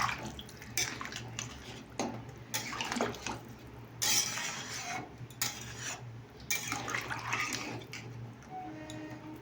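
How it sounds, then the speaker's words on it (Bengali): Water is poured into a pot of pointed gourd curry, a close splashing and trickling that comes in uneven surges over several seconds, with light clinks of the pot. "আমি জল দিয়ে দিলাম"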